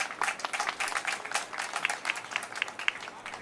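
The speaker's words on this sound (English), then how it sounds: "Let's give everybody a round of applause." Audience applause at a Father's Day pledge kick-off event, a short burst of lively, uneven clapping from a modest crowd, fairly close and steady throughout.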